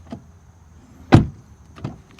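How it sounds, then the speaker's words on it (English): A 2020 Audi S4 sedan's door, heard from outside: a faint latch click, then one solid heavy thud as it shuts, followed by a lighter click. "Door open and close sound on the Audi S4 from the outside"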